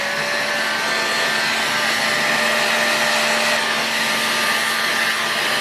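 Steady, loud whirring blast of a heat gun or hot-air blower warming the bearing housing of an OS FT-240 model engine, constant with a faint tonal whine and no pauses.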